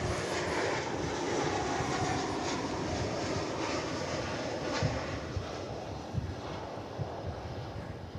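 An Alaska Airlines jet, flight 414 from Seattle, arrives at Dallas Fort Worth airport on runway 18 right, heard as a steady, fairly distant engine roar that fades slightly toward the end, with no voices.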